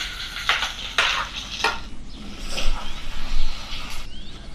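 Chopped onion and green chilli fry in hot oil with a soft, continuous sizzle, broken by several sharp scraping stirs of a spoon against the pan, close by.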